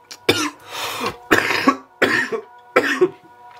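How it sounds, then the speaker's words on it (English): Four harsh, close coughs in quick succession from a person recovering from illness, each a sharp burst separated by short pauses. "I'm still coughing."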